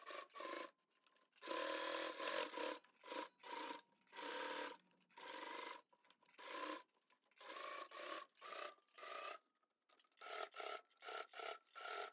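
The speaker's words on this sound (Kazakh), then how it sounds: "Енді машинкада айналдырып, осы жерінен шетінен тігіп шығатын боламын." A sewing machine stitches along the edge of a fabric skullcap in short bursts of rapid whirring that start and stop repeatedly. Each burst is close and fairly quiet, with no talking.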